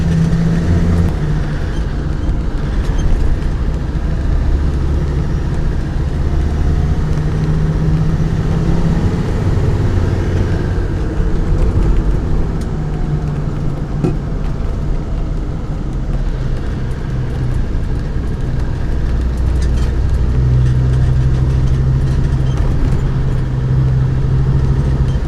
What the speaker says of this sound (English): I'm pulling up in third now. It's just touching the accelerator ever so slightly, and it just wants to go.